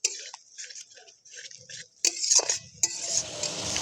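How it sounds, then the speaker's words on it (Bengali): Spice masala being stirred and fried in a pan for bamboo biriyani, with soft scraping and clinks from a utensil against the pan, then a louder, steady sizzle building over the last two seconds. "এবার ভালো করে আমরা মশলাটা কষিয়ে নেব।"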